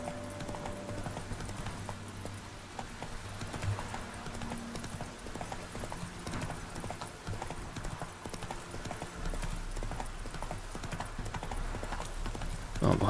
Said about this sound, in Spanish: Uy, casi se cae el caballo